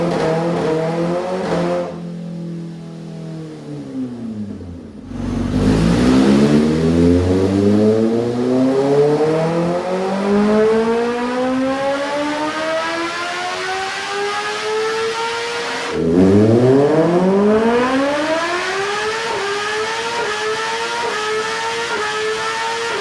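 A 2026 Kawasaki ZX-10R motorcycle fitted with velocity stacks, a new air filter and a new exhaust, running on racing fuel, revs hard in two long pulls during a power test, climbing to a loud, close high-pitched wail after each gear drop.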